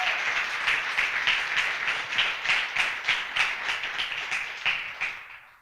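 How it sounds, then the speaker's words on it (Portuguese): A church congregation applauds together, dense, loud clapping that swells in rhythmic waves and then fades out, with no talking over it. "Se você crê, dê um aplauso bem forte ao Senhor."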